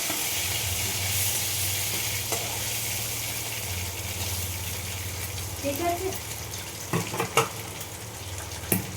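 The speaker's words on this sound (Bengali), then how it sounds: "এই দেখো পুরো ভেজে ভাজা ভাজা হয়ে গেছে" Fish fries in a pan with a steady, dense sizzle and hiss, while a person talks over it and a few brief clinks of utensils come through.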